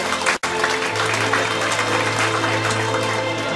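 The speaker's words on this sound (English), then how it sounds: "A big round of applause to architect Kazinia Kaldit Chico." An audience at an architecture graduates' recognition ceremony applauds loudly and steadily, with a brief cut near the start and a low steady hum underneath.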